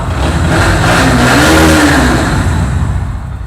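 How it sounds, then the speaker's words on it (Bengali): A TVS Apache RTR motorcycle engine runs loud and close, a dense continuous roar with a brief rising rev in the middle that eases back down, steady throughout. "চলো স্টার্ট করে একবার শোনায় স্টার্ট হচ্ছে"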